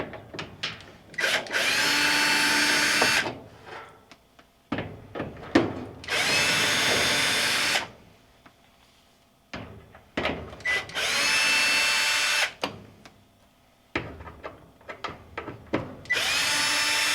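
A power drill fitted with a flexible extension shaft runs during a repair of a noisy Maytag dryer's blower wheel: loud, close bursts of high-pitched whirring, each a few seconds long, separated by short pauses and small clunks.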